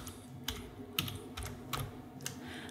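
Quiet, close typing on a computer keyboard during an After Effects tutorial: five or six separate key clicks spaced roughly half a second apart over a low steady background hum.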